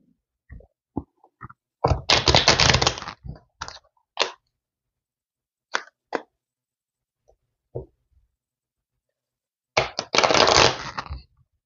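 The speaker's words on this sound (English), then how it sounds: "let's go ahead and do 3 shuffles and see what I do get here on the split after the 3rd shuffle" A deck of tarot cards is shuffled in two brisk riffling bursts, each about a second long and close by, separated by scattered soft clicks and taps of the cards in a quiet room.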